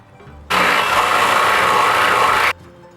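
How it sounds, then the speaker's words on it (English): A power drill boring into the body of a tiny van during a solar panel install, a loud steady whirring burst of about two seconds that starts and stops abruptly, close by, with quiet surroundings before and after. "Let me make sure this is a safe spot to drill in."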